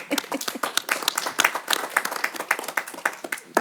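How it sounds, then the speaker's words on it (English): Applause from an audience at a college board of trustees meeting, a dense run of many hands clapping steadily and fairly close for several seconds, with no voices over it. "we'll give you an applause"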